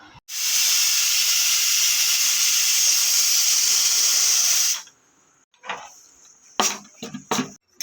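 A pressure cooker with chopped eggplant, potato, tomato, green chilli and garlic vents a loud, steady steam hiss for about four seconds, then cuts off and is followed by a few brief, sharp clatters nearby.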